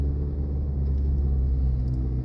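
A car in first gear on a driving lesson route hums with a steady, close low engine drone and road rumble, unchanging throughout, with no talk.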